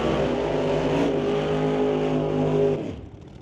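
A supercharged 1969 Pontiac GTO drag racing car roars loud and close with a sustained harmonic engine drone at a drag strip, then cuts off abruptly near the end.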